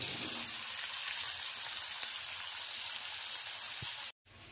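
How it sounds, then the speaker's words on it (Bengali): Chow mein noodles boil in a pot, a steady dense bubbling and hissing that stays level and close for most of the stretch, with one brief knock near the end before a sudden short cut to near silence. "এই যে চাউটা ফুটছে, দেখা যাক।"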